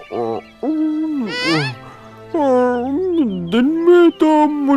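A voice imitates an owl with a series of drawn-out, sliding hoots and warbling calls, loud and close, in uneven bursts with short gaps.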